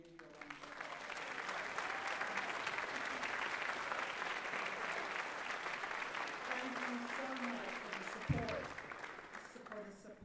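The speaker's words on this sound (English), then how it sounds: "y'all stand so we can give you a round of applause." Sustained applause from an audience honoring parents and grandparents at a military honor cord ceremony, steady and dense for about ten seconds, with voices murmuring through it and a brief louder knock near the end.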